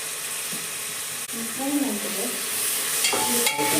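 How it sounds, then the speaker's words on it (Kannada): Mint leaves for chicken biryani fry in a pan, a steady sizzle broken by scraping, clinking stirring strokes. A voice speaks briefly over the cooking. "ಮಿಕ್ಸ್ ಮಾಡಿ ಫ್ರೈ ಮಾಡುವ."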